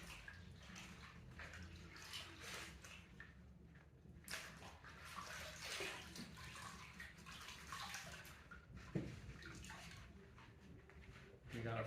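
Fabric dipped in an iron indigo dye vat and rinsed in water, quiet splashing and sloshing sounds, with a voice talking faintly over them.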